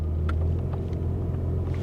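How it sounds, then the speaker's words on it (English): A 1988 Chevy Cavalier Z24 idles with a steady low rumble inside the cabin, its engine bogging slightly when the rear defrost switches on; no talking. "I kicked on the rear defrost and you could hear the engine bog."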